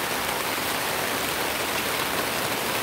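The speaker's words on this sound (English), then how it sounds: "We're camping and it's raining hard." Heavy rain pours down steadily on a campsite, a dense unbroken hiss with no voices, close and loud throughout.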